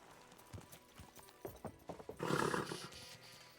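Horse hooves clip-clop in a quick, uneven rhythm at moderate distance in the video game Kingdom Come: Deliverance 2, ending in a louder burst of rushing noise.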